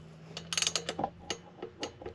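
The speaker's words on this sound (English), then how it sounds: "Then we'll grab the torque wrench and get those torqued up." Fender bolts on a Yamaha TW200 being tightened to 17 foot-pounds with a torque wrench give a close series of irregular metallic ratcheting ticks and clicks, with no talking.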